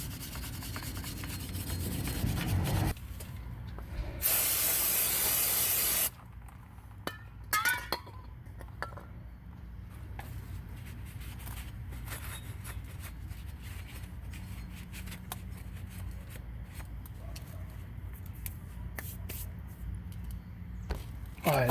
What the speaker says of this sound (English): let's clean up some rust.